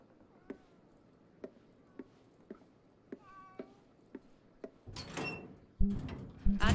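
Cats meow in the video game Ghostwire: Tokyo, a few faint calls mixed with a steady series of soft clicking taps, then loud, dense game sound takes over near the end.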